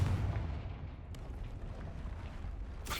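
A Confringo spell blast erupts in Hogwarts Legacy as a loud booming burst that fades into a rumbling decay, followed by a sharp crackle near the end.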